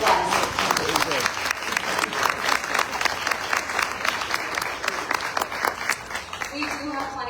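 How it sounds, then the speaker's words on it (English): A small audience at a beef cuts demonstration breaks into lively applause, with dense, crisp claps near the microphone that rise quickly, stay strong and then gradually thin out. "please help me give a round of applause"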